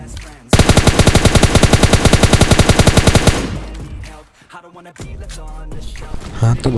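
Rapid automatic gunfire in PUBG Mobile Lite, a long sustained burst of evenly spaced shots that ends after about three seconds, followed by scattered game sounds and more shooting near the end while someone speaks.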